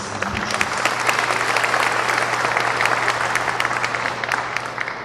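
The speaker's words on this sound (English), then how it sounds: "Parents, guardians, what about a round of applause for our advisors and teachers?" Parents and guardians at a 2013 graduation ceremony applaud advisors and teachers, filling the hall with a dense, sustained round of clapping at steady volume and a faint low hum underneath.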